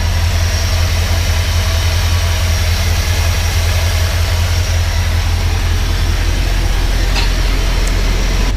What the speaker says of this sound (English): I will say the motor sounds much more throaty, even at idle.